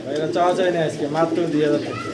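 Silver-coloured Sirazi pigeons coo in overlapping, rolling calls that carry steadily and fairly loudly throughout, with someone talking over them.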